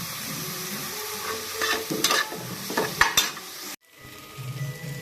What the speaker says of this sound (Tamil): தக்காளி வதக்கும் போது நல்லா வதங்குறதுக்காக கொஞ்சம் மஞ்சள் பொடி கலந்துக்கோங்க.